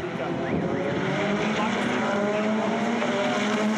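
GTC race cars roar together off the line at a season-finale round at Red Star Raceway, Delmas, a steady, loud, layered engine drone with shifting pitches throughout, probably under commentary.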